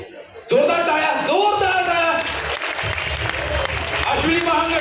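An audience claps at a Lokmat Mumbai stage event featuring TV serial actors. The applause is steady and sits beneath loud, amplified speech from the stage.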